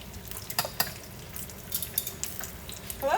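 Chicken wings fry in a pan, giving a quiet, steady sizzle broken by scattered clicks and scrapes of a utensil against the cookware.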